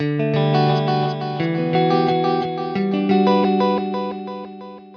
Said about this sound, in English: We just went for very glassy, icy reverb that is very visual.